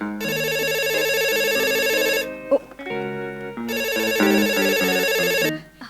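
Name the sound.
telephone ringtone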